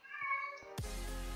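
A cat meows in a drawn-out, tonal call that is followed by a sudden loud burst of broadband noise that runs to the end.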